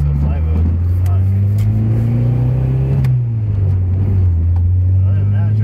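A Honda Prelude at night, its engine droning loud and steady close by with a rise and fall in revs as it drives, and some talk over the engine.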